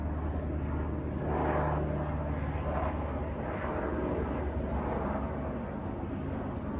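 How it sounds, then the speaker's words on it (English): A steady low rumble of a helicopter passing overhead outdoors, continuous and fairly distant, with faint high chirps in the background. "Sorry, plane. Helicopter. What is that?"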